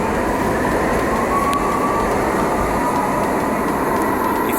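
An Ottawa LRT light rail train rolls along with a steady, loud broadband rumble and a faint sustained whine, continuous and close throughout with no talking.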